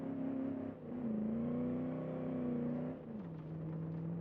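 A 1960s muscle car engine in the BeamNG driving game holds a steady, loud drone at high revs. The pitch dips briefly near the start and again toward the end, with no talking.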